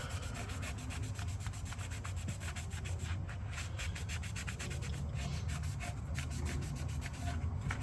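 Fast, rhythmic scratchy rubbing of sandpaper on guitar fret inlays of a Harley Benton DC-600 VI guitar, steady and close, continuing without pause and with no talking.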